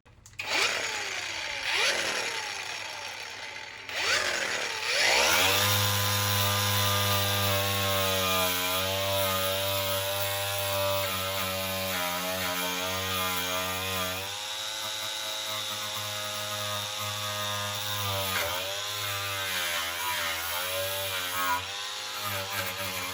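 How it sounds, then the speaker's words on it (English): An angle grinder strips paint from the bare metal floor of a Sprinter van, a loud, continuous high whine with a strong steady hum underneath that shifts in pitch as the disc is pressed and eased against the panel. "I am becoming proficient with the grinder. I was so much afraid of it. I am removing the paint,"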